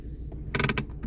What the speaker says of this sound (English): Behind it then we have our manual handbrake